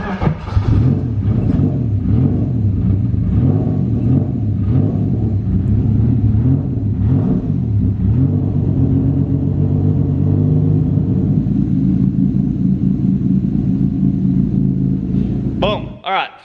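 A turbocharged BMW M52 engine in an E36, running without an idle control valve, idles with a loud, wavering rumble that rises and dips steadily for over fifteen seconds before cutting off near the end.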